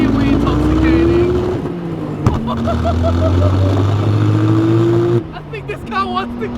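A twin-turbo RB26 engine swapped into a Datsun 240Z revs hard through rising gear pulls with a shift between them, loud and close from inside the car, then eases near the end while someone talks over it.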